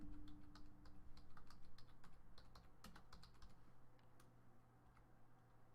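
Someone types on a computer keyboard in a rapid, irregular patter of faint clicks over a low steady hum, with no talk.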